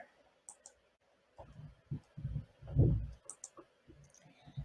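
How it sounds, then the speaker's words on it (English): A computer mouse being clicked during work in a course page editor, with a few sharp, faint clicks spread across a quiet room over soft low background noise. "and then I'm going to right click."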